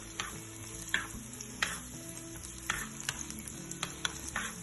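Onions frying in a pan for pan-fried salmon, a quiet steady sizzle broken by repeated sharp scrapes and taps of a utensil stirring them around.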